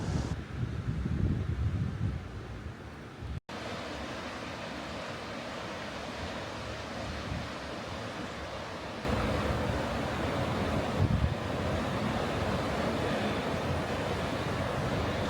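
River Dee rushing through the rocky Linn of Dee gorge, a broad steady roar of flowing water heard from nearby outdoors, with some wind buffeting and a brief cut early on.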